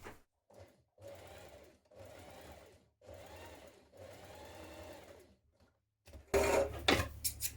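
Sewing machine stitching a cardigan pocket seam in several steady bursts of rapid mechanical whirring separated by short pauses, followed by louder rustling handling of the fabric at the end.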